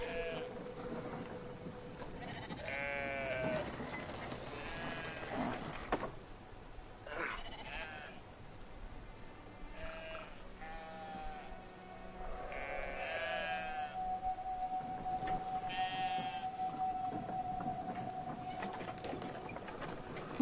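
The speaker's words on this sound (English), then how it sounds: "Get out of the way, sheep." A flock of sheep in the game Brothers: A Tale of Two Sons bleats repeatedly, with overlapping wavering calls coming in bursts, plus one long steady tone, over a continuous ambient wash.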